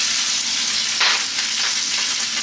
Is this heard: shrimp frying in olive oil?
yes